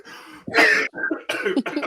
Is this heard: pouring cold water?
no